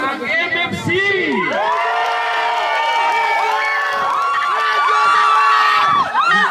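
A crowd at a Filipino family fun day in Paris cheers, shouts and whoops loudly and continuously for the participants, with excited voices and high yells layered together.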